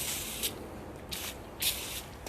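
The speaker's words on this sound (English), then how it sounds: "And I'm just spraying it pretty good." Easy Off oven cleaner sprayed from a can onto wood furniture: three short hissing bursts, close and fairly loud, with quieter gaps between them and no voices.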